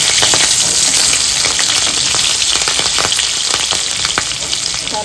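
Green chilies sizzle and crackle loudly in hot oil, a dense, steady frying hiss with light stirring clicks throughout and no voices.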